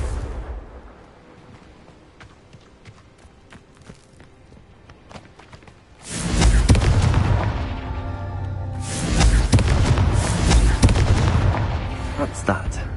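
A Confringo explosive spell from Hogwarts Legacy erupts as a loud, sustained blast partway through, followed by a second heavy burst of rumbling destruction over quieter game ambience and scattered clicks.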